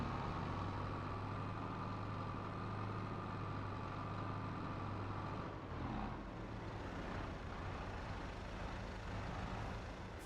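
A small truck's engine idles in Farming Simulator 22, a steady low drone with a constant hum that shifts slightly partway through, alone and moderately quiet.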